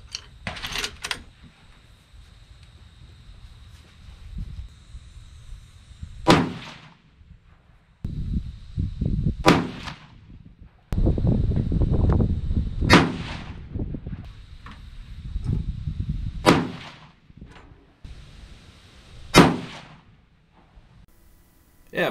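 A 6.5 Creedmoor rifle fires 147gr ELD Match bullets, giving about six sharp, loud reports spaced a few seconds apart. Each report has a brief echoing tail, and lower handling noises fill the gaps between shots.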